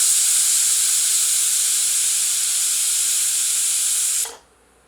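Loud, steady hiss of steam rushing from a pressure cooker of mutton, continuous for several seconds before cutting off abruptly near the end.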